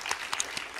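An audience claps briefly at an honors convocation, a quick scatter of hand claps under a bright, roomy wash of applause.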